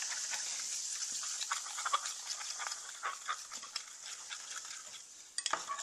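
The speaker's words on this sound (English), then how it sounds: "Now we're going to mix this thoroughly with whatever you really have." Utensil scraping and clinking against a bowl while a fizzing baking mixture is stirred until dissolved, a steady close rhythm of small scrapes and taps with a brief louder clatter near the end, no talking.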